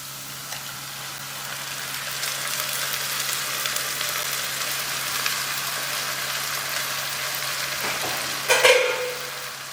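Onion sautéing in a pan, a steady broadband sizzle running throughout with a brief louder clink or scrape near the end.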